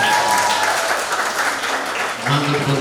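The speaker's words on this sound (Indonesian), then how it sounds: "Tepuk tangan." An audience at a nursing and midwifery oath-taking ceremony applauds, a dense wash of clapping that fills the hall throughout, with a voice speaking faintly underneath near the end.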